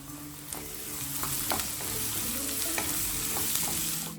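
Chopped green capsicum fries in a pan under a steady close sizzle, with spoon scrapes and light knocks of stirring every half second or so and no speech.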